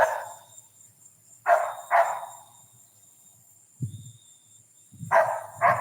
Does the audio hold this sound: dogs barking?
yes